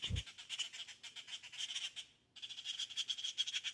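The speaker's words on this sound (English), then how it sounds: "And the birds are agreeing." Birds calling outdoors in a dense, continuous chorus of shrill chirps and trills, steady and fairly close, briefly dropping out before resuming.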